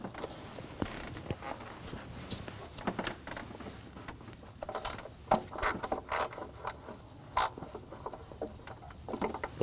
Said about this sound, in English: Using a 10mm socket and a ratchet, go ahead and start taking them out.